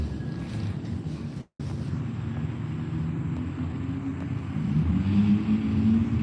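Drift cars at Norfolk Arena run a practice session, a steady engine drone with a brief cut partway, then rising louder and nearer toward the end as the cars build revs.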